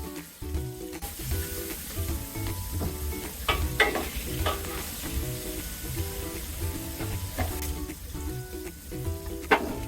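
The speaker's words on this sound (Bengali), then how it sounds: "রসুনটাকে আমি হালকা লাল করে ভেজে নিয়েছি এবার এক কাপের মতো পেঁয়াজ কুচিয়ে দিয়ে দিলাম" Garlic and chopped onion fry in a pan for a katla fish curry, giving a steady close sizzle broken by regular spatula scrapes and knocks against the pan, with no talking.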